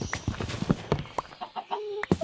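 Chicken clucking in a video game, several short clucks and warbling calls in an uneven rhythm, fairly close and moderately loud, with no talking over them.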